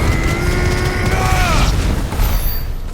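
An explosion in the video game Final Fantasy XVI sounds as a loud, continuous rumbling blast with dense low roar. A falling tonal whine fades out partway through and bright shimmering effects follow.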